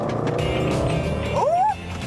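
A Range Rover Sport SVR launches hard from a standing start in dynamic mode, its exhaust a loud, continuous low roar with a brief rising squeal near the end, no talking over it.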